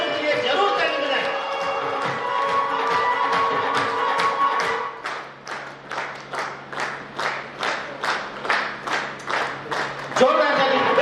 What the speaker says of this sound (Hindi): बच्चों के लिए जरूर ताली बजाएं।